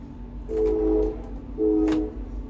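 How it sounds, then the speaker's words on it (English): A train horn sounds twice in the distance, two long steady blasts separated by a short gap over a low rumbling background. "Y'all listening to that train?"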